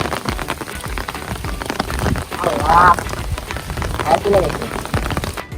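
Steady rain falls outdoors during a fishing trip in winter, a continuous broadband patter on surfaces with a few faint birdlike chirps midway and no talking.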